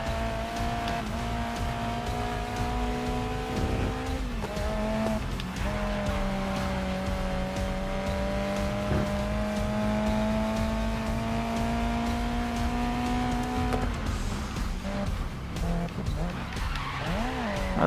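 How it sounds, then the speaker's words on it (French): A race car in the GRID Legends racing game skids through a right-hand corner after a missed braking point, tires squealing loudly over a steady, droning engine note that shifts pitch near the end. "Voilà, je dérape évidemment, vu que j'ai raté mon freinage."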